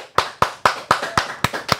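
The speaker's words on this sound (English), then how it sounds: "Let's get a clap from the audience." A live podcast audience gives a short burst of clapping: seven sharp, evenly spaced claps about a quarter second apart, close and crisp, with no voices over them.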